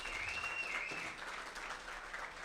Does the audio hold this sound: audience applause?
yes